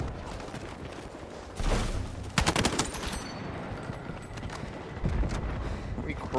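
Bursts of L85A3 rifle fire in Battlefield 6 rattle out in quick, loud clusters of sharp cracks amid busy in-game battle noise, with someone talking over the shooting.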